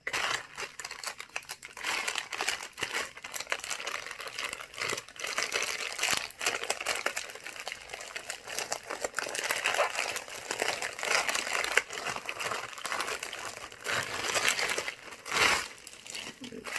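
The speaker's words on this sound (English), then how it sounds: "This is the tissue paper." Tissue paper crinkles and rustles steadily as a monthly subscription package is unwrapped, a continuous close, dry crackle with brief louder crunches throughout.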